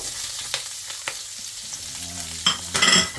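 Chopped onions stirred and sizzling in a hot pan with garlic for pinakbet, a steady fry with scraping stirs and brief clanks of the utensil near the end.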